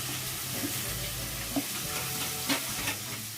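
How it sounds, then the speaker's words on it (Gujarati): Cabbage, capsicum and other vegetables sauté in a pan over medium heat for veg fried rice, a steady close sizzle with occasional spatula stirs and scrapes, no talk. "કોબી એડ કરી દઈએ હવે ગેસ મીડિયમ કરશું આપણે અને આપણે એને સાતડી લેશું વેજીટેબલ્સ"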